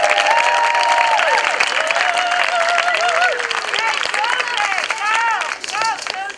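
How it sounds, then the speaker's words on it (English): Loud crowd applause and cheering at a festival, dense sustained clapping with voices calling and whooping over it throughout. "Please give our sister another round of applause."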